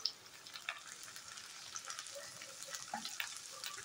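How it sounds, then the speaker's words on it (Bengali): Potatoes frying in a pan with onion and garlic, with salt and turmeric added: a soft, steady sizzle with faint crackles and occasional stirring scrapes, heard close and quiet with no talk. "পেঁয়াজটার সাথে আলুটাও ভাজা হয়ে যাবে।"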